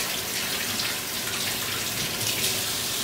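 Hot water runs steadily from a kitchen tap while cupcakes are being made, a close, continuous hissing splash with no talk over it.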